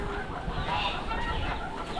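Laying hens cluck softly in a coop, a low, steady chatter of several birds heard at a moderate distance, faint and continuous.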